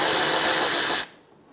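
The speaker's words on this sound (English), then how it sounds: "Using a 10 millimeter socket, remove the nut for the fender liner." A power tool with a 10 millimeter socket spins off a fender liner nut on a 2012-2020 Chevrolet Sonic, whirring loudly and steadily for about a second before cutting off into quiet.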